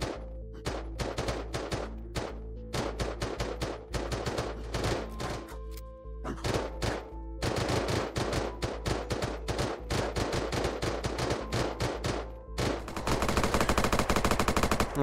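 Rapid bursts of MKP rifle fire in the video game Unturned while shooting zombies, loud close shots in quick clusters with brief pauses, ending in a dense sustained volley.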